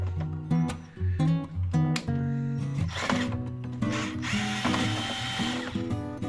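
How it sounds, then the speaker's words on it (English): A screwdriver fitted with a T10 star bit backs screws out of an HP Officejet 6500A printer, giving close rhythmic ratchet clicks in quick repeated bursts followed by a steadier whirring, mechanical rattle. "We're just going to unscrew those two."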